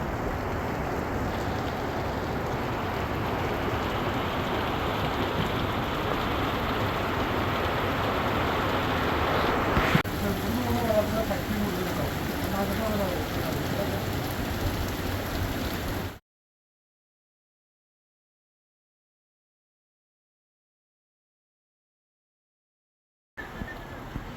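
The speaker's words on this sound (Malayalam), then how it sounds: "നമ്മുടെ നാട്ടിലത്തെ മഴയാണിത് ഒന്ന് നോക്കിയോളൂ" Heavy monsoon rain pours down outdoors in a village in Kerala, a loud, unbroken roar for about sixteen seconds before it cuts off, then returns briefly at the end.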